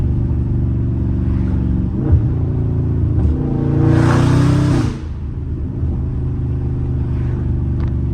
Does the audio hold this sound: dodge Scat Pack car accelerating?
yes